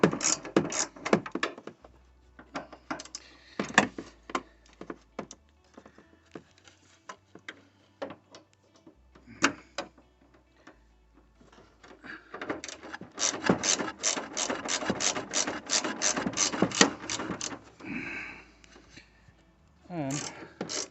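A hand ratchet with a T30 bit works on headlight bolts of a Dodge Charger, giving runs of quick, close clicking bursts separated by pauses, with a person talking in between.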